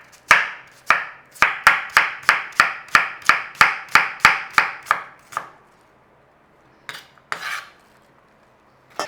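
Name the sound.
knife slicing onions on a board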